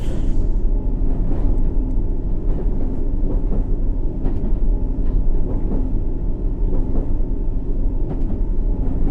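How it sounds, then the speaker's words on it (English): A video game subway train on the Circle Line, heard from outside, rumbles loud and steady, with a constant low drone and faint rhythmic clatter throughout. "You only hear the engine sound on the outside."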